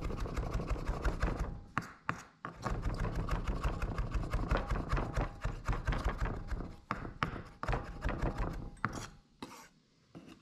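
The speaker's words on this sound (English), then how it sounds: "Chop it up a little bit so it'll mix in nicer." Fresh dill chopped on a cutting board with a knife while making a Greek falafel pizza, a fast, close, steady series of crisp knife taps with brief pauses and a few louder strikes near the end.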